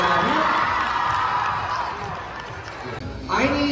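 A school audience cheers and whoops for a BMX trick by champion rider Matt Wilhelm at a school performance, a loud crowd roar with children shouting while an announcer's voice carries over it.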